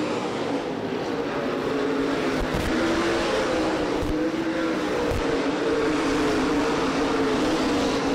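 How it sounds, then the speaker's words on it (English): A field of modified stock cars racing at Winchester Speedway roars past in a continuous, loud, droning engine wash, with brief surges as cars pass nearby. "Axum loses 3 spots in one corner as Burkett, Nestor, and John Beach make their way by."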